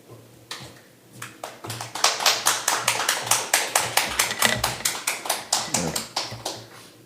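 A church congregation at a Sunday service applauding to welcome the pastor, a sustained round of loud, fast, evenly rhythmic clapping from a crowd that builds quickly and carries on for several seconds.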